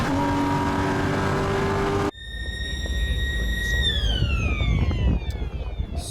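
A Porsche race car at Oulton Park crosses the line at the end of a qualifying lap, its loud engine note shifting sharply as it passes close by, with steady high-pitched harmonics sliding downward as it moves away.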